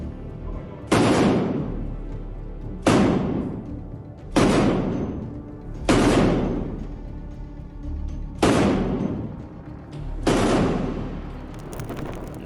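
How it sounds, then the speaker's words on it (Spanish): Machine-gun and grenade fire strikes a Wagner assault group in a Ukrainian ambush: six loud, sharp blasts land at steady intervals of about two seconds, and each one rings out into a long fading tail. "Las primeras ráfagas de ametralladoras y las explosiones de granadas sacuden al grupo de asalto de Wagner"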